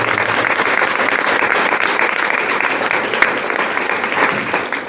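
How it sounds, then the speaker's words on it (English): Steady, dense applause from an evening presentation audience fills the space, many hands clapping continuously at an even, loud level with no talk over it. "I think they truly deserve a round of applause."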